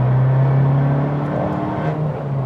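An Abarth 695 with an open exhaust accelerates in third gear, its engine droning loudly and steadily with a rising tone, recorded from inside the small car.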